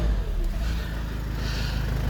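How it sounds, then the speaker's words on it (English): A VW Tiguan 2.0 TDI diesel engine idling steadily up close, a continuous low rumble with no talk over it. "I'm going to switch the engine off because it'll be too loud with it on"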